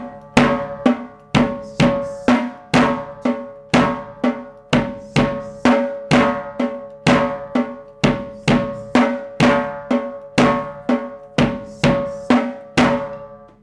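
A drum kit plays a fillip rudiment over a seven-count bass drum pattern: a steady, dense run of sharp, ringing strikes, close and prominent, with no voices.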